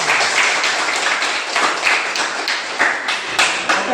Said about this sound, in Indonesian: Tepuk tangan dulu Kang.